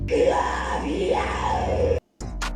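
Screaming from a played tutorial-style video, a sustained loud yelling voice lasting about two seconds, then a brief cutoff and a short burst of further sound.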